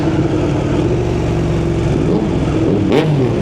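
A Yamaha MT-09 three-cylinder motorcycle engine drones loud and near, then lets out a sharp pop on a gear change just before the end as the revs shift.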